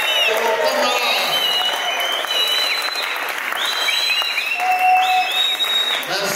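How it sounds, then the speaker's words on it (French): A seated political crowd rises to applaud loudly and cheer in honour of returning party comrades, dense continuous clapping with scattered whistles and shouts filling the hall, a voice briefly heard over it. "acclamez très fort à l'honneur de nos camarades"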